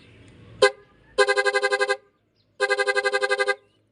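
A musical car horn under test plays one short blast and then two long melodic tune phrases, loud and close, with pauses between them and no talking over it.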